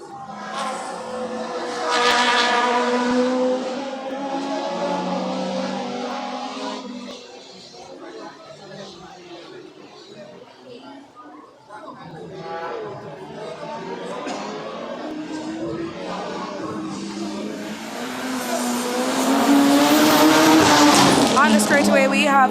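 Race cars at the JRDC Carnival of Speed 2025 approach a hairpin, their engines whining loudly with tire squeal that swells, fades mid-clip, then builds again near the end, under a commentator's continuous talk.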